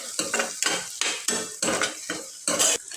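Ginger garlic paste is stir-fried in a pan, with a spoon scraping and clanking in about eight rhythmic strokes over a soft sizzle, close and loud, with no voices.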